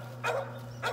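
Bay dogs bark during a hog hunt outdoors, two short yelping barks about half a second apart, moderately close and without talk.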